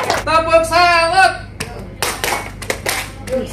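A classroom of students doing the "tepuk salut" clap during an ice-breaking game, with a sung chant over it and a few sharp group claps that come afterward, mixed with voices.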